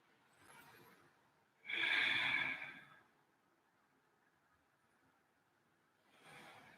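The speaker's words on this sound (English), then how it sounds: "Hold and breathe." A slow, deep breath in a supine yoga twist: a faint inhale, then a strong audible exhale lasting about a second, a long quiet pause, and another soft breath starting.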